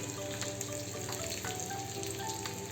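Red chili pieces and garlic cloves crackling in hot oil for a dal tadka tempering, a steady dense sizzle with small pops throughout, close and even, with no talk.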